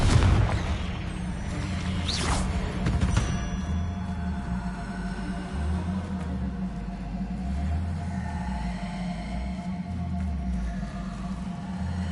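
Confringo explosive spell blasts in Hogwarts Legacy: a loud burst and crackle near the start, then a sustained low rumbling boom under a steady background drone.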